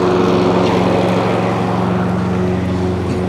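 A Hayter 56 lawn mower's petrol engine runs steadily at close range, a loud continuous drone with an even throb and no talk over it.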